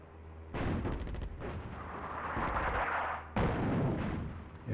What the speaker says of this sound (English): I think I've got one more artillery strike available